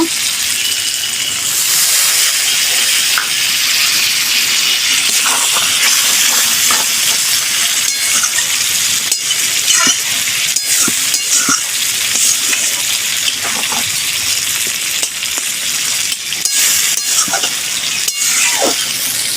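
Fish head and elephant foot yam frying in a pan with water just added, a loud continuous sizzling hiss close up with scattered clicks and scrapes of stirring throughout.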